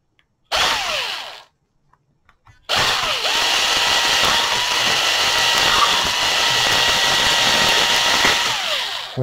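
A battery-powered drill runs in two loud, steady bursts, a short one at the start and then a long continuous whine after a brief pause, close to the listener with no talk.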